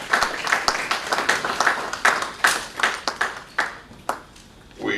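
Audience clapping for an airline captain at an aviation careers conference, a thin group of separate claps with distinct individual hits that rise, then thin out and trail into a few last claps and quiet.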